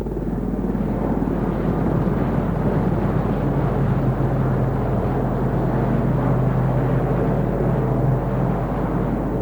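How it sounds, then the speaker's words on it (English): A Royal Navy Sea King rescue helicopter drones overhead with a deep, steady rotor rumble that stays loud and continuous throughout, no voices. "And there's also a Sea King helicopter just flying over by."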